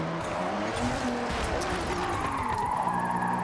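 A Nissan Drag GTR drifts in the Forza video game, its tires squealing and skidding loudly and continuously over a steady engine roar, close and with no voices.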